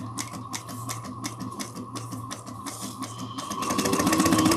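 A Bernina sewing machine stitches a crossbody bag with a steady motor hum and quick rhythmic needle ticks. It runs close and continuously, then speeds up and grows louder near the end.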